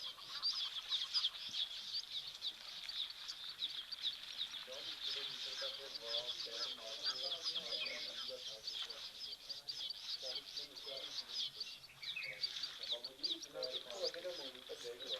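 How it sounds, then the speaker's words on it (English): Birds, including weavers and Egyptian geese, call at a busy African waterhole: a dense, steady high chorus of chirps and twitters with honks and clucks in the distance, and a voice speaking softly over it. "I can hear the birds going."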